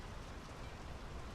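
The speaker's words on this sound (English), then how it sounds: "The rain's picking up." Steady rain falls in the horror adventure game Draugen, a dense, even hiss of drops pattering across surfaces that holds constant and fairly close throughout, with no voices over it.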